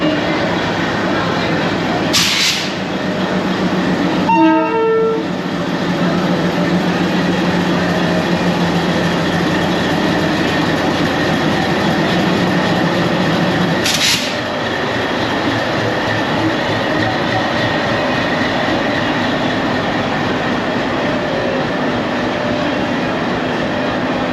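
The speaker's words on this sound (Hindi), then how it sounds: "दोस्तों ये लोकोमोटिव जो है तुगलकाबाद का है, WDP 3 है लोकोमोटिव" An Uttaranchal Sampark Kranti Express train hauled by a WDP 3 diesel locomotive rumbles steadily from inside a moving carriage, with a brief clank and a couple of sharp hissing or squealing bursts over the constant roar.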